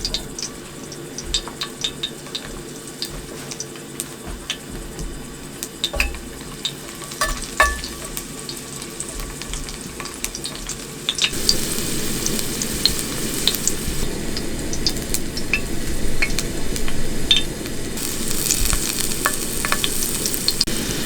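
Fish sizzles and spatters in a frying pan over a gas burner outdoors, a steady crackle that grows noticeably louder and denser partway through, with occasional stirring clinks and no talking.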